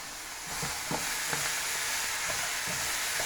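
Onions frying in a pan, a continuous bright sizzle heard close up, with soft stirring taps and scrapes scattered through it and no voices.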